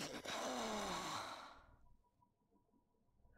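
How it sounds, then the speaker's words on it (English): A Sim's snoring in The Sims 1, a long, loud breathy exhale with a falling moan-like pitch that fades out after about a second and a half, leaving quiet background. "Her snoring sounds painful."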